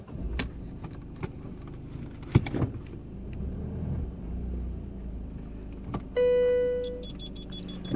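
Rear parking sensor retrofitted to a Peugeot 208 bumper sounds a steady electronic beep tone over low engine rumble as the car creeps slowly, faint and close inside the cabin.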